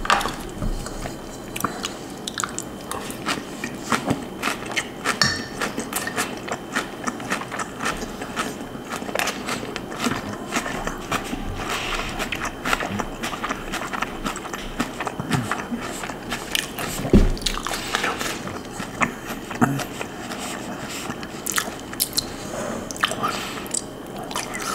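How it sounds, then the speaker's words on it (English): Close-up chewing of a kale salad with creamy dressing: a long run of wet, squishy bites and soft crunches, steady and intimate, with no talking over it. "I'm eating a kale salad, by the way."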